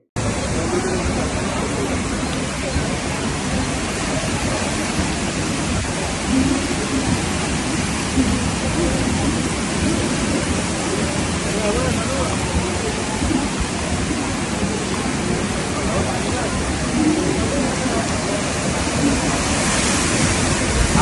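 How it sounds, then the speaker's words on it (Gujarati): Heavy rain and floodwater on the Nala Sopara railway track in Mumbai, a dense, loud, unbroken roar of falling and moving water lasting throughout, with faint murmuring voices buried beneath. "ભારે વરસાદને પગલે મુંબઈનો નાલા સોપારા રેલવે ટ્રેક પાણીમાં ગરકાવ થઈ ગયો."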